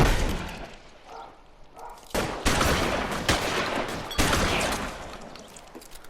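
Rapid gunfire in the crime game L.A. Noire, a series of loud sharp shots and bursts that begin after a quieter start and keep going under faint background sound.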